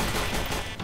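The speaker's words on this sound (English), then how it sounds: "That's a turret shooting me." An automated turret fires in CS:GO Danger Zone, a loud, dense burst of gunfire that lasts under a second.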